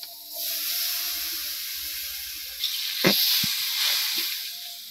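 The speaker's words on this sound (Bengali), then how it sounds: "জিরা বাটা দারচিনি বাটাটা এটাও আমি কষাই নিতেছি" Cumin and cinnamon spice pastes sautéing in a pan in a village kitchen, a steady close sizzle and hiss with a few sharp scraping stirs in the second half.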